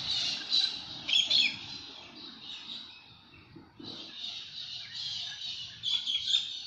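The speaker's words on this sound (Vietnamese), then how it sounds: "Dây điện chúng ta thấy có hai con cockatoo màu trắng muốt," Two white cockatoos perched on street power lines in Sydney give loud, harsh squawks in repeated bursts, close and clear over faint background traffic hum.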